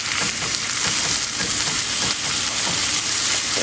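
A snapper fillet sears in a hot pan, giving a loud, dense, continuous sizzle and hiss that stays steady throughout with no voices.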